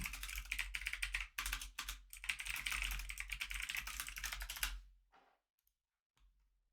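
Rapid typing on a computer keyboard, dense fast clatter of keystrokes close up, pausing briefly, then trailing off into a few faint taps.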